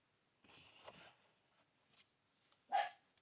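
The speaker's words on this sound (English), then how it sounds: "Sorry about my dog barking." A dog barks a few times, faint and somewhat distant, in short scattered yelps within an otherwise quiet indoor room.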